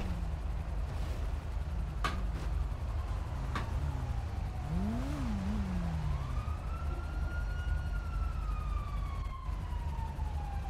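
A police car siren in the GTA V FiveM video game wails and sweeps up and down, with a few sharp bangs early on and a thin engine drone underneath, fairly quiet overall.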